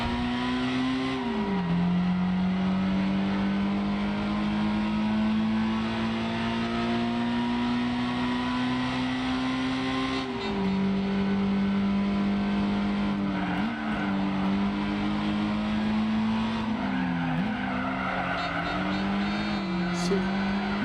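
A race car engine in the video game Gran Turismo 4 drones and revs steadily, pitch dipping and climbing at gear shifts, loud and continuous over the whole stretch.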